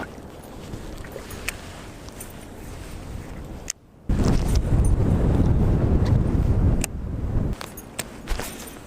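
Cold, brutal wind gusting across a shallow pond while fishing, buffeting the microphone with a low rumbling roar that swells sharply midway, briefly drops out, then continues in strong bursts.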